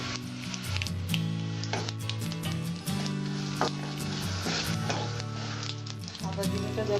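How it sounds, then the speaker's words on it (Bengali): Dried red chillies and cumin seeds sizzling in hot oil while a Bengali vegetable dal is being tempered: a steady, close crackling hiss with small pops, and a spoon stirring now and then. "ফোড়নে দেবো শুকনো লঙ্কা, দেবো আমি সাদা জিরে"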